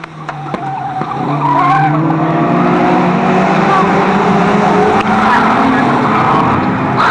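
Race cars roaring around Fleet Raceway during a meeting, with sustained loud engine drone and tyre skidding throughout, close and continuous, while an announcer commentates over the racing.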